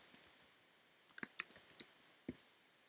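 Computer mouse clicking in quick, light, crisp bursts, a few single clicks then a busier run of several clicks close together, quiet and near with no talking.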